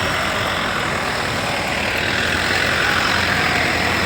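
A tow truck lifting a car parked in a no-parking zone on GD Somani Road, Cuffe Parade, Mumbai, gives off a loud, steady heavy-engine rumble mixed with street noise, with no voices.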